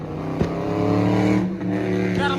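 Dodge Hellcat engine rumbling steadily up close in traffic, with a brief throttle blip and burbling exhaust pops, some talk underneath.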